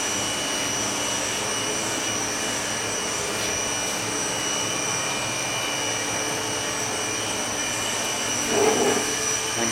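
Steady loud machine drone from a bookcase welding machine in automatic mode moving its bridge to the loading position, a constant industrial hum with a brief mechanical bump near the end, no speech.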